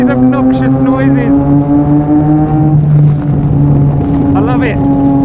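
Loud, close engine note of a Yamaha MT-09 with a Mivv X-M50 exhaust, revving up and settling in uneven waves, a rider's voice speaking over the steady rumble and wind.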